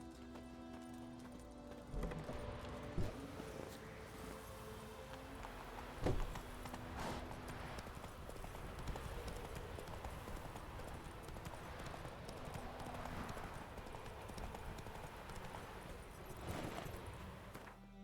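Roach, Geralt's horse in the video game The Witcher 3, trots with steady rhythmic hoof clip-clops over a busy game soundscape, hooves prominent and continuous throughout.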